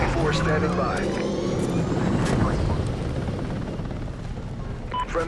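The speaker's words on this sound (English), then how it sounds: "Friendly chopper inbound." A friendly helicopter flies in during Call of Duty Ghosts multiplayer, with its rotor roar and engine whine thick and loud beneath game voice callouts and the clatter of battle.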